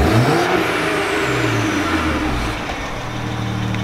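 A BMW 335i with catless downpipes revs loudly up close, a broad rasping engine roar that swells and then settles slightly lower, with no voices over it.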